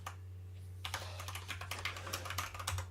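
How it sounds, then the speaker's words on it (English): Rapid keystrokes clatter on a computer keyboard close up, a dense burst of irregular clicks that starts after a short pause and continues steadily over a constant low electrical hum. "I'm typing my passwords in here."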